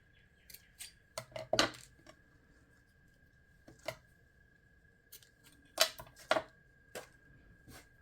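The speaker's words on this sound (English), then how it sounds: "So we'll just cut our pieces." Scissors snip through paper and card pieces for mixed media bookmarks in a series of sharp, close, irregularly spaced cuts, with a faint steady hum behind.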